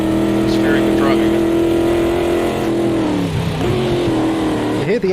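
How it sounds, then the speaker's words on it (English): A Porsche race car engine in the racing game Automobilista 2 at Monza drones at steady high revs, then the pitch sags and wavers through standing water before climbing again, loud and continuous throughout. "You hear the engine drop in revs when I went through that standing water on the right there."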